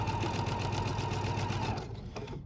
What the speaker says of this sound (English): now I'm going to sew on the other side of that line that I've drawn